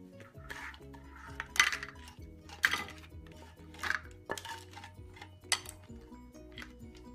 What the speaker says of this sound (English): Okay, let's put it on the plate.